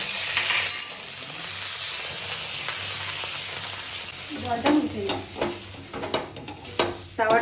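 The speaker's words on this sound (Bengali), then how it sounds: "আমি তাওয়ার মধ্যে তেল দিয়ে দিলাম" Oil heats and sizzles on a nonstick tawa over a gas flame, a steady close frying hiss with brief stirring and clinking toward the end.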